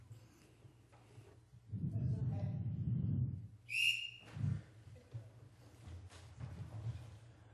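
A single sharp, high whistle blast rings out briefly amid crowd noise and murmuring voices.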